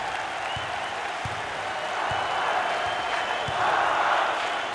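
Arena crowd at a Nebraska Cornhuskers college basketball home game against Stony Brook, applauding and cheering steadily, the roar swelling louder toward the end, with a few sharp thumps in the background.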